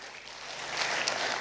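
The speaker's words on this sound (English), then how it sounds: "Let's please all applaud them" Audience at a two-day National Elections conference applauds a panel, a broad steady clapping wash that swells slightly louder toward the end, moderately distant with no talking over it.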